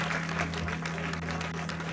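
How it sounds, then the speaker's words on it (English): An audience claps in steady, dense applause that continues through the whole moment, with a low tonal hum running underneath. "The clapping goes on."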